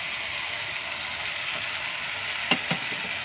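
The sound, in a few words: frying tomato with ginger-garlic paste for aloo dum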